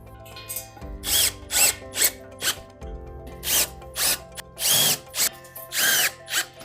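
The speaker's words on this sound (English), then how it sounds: "Using the lag screws provided and washers, I'm going to go ahead and secure the end post." A power drill drives lag screws with washers to secure the end post of a guard rail kit: about a dozen short whirring bursts, each rising and stopping, with brief pauses between, close and fairly loud.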